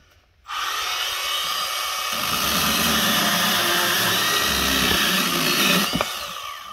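A Milwaukee M12 cordless pruning saw revs up and cuts through an old 2x4: a loud, close, buzzing motor-and-blade rasp that holds steady for several seconds, then tapers as the cut finishes.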